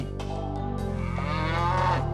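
A cow lets out a long, loud, close moo that holds steady before shifting pitch partway through, with no voices.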